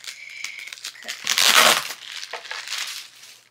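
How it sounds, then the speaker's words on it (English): Scissors cut open a package, a dense crinkling, tearing crunch that swells to a loud burst midway, with lighter crackles of plastic packaging before and after. "Okay, I'm gonna use some scissors."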